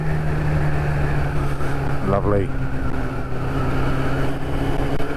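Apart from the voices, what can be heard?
Kawasaki ZX6-R motorcycle engine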